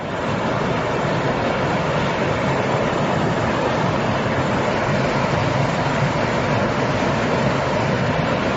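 Saepha waterfall in Laos: a constant roar of rushing, falling water that stays broad and steady throughout, loud and close, with no other sounds.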